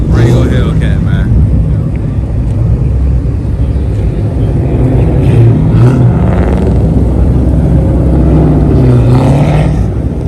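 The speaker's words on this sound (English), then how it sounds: "Look at this Durango Hellcat, man." A Dodge Durango Hellcat at a car meet gives off a loud, deep engine rumble that fills the whole stretch, with people talking over it outdoors.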